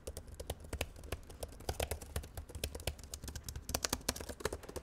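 Rapid typing on an LG ultrabook laptop keyboard, a dense stream of close, crisp key clicks and taps with no speech.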